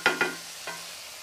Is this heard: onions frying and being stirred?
yes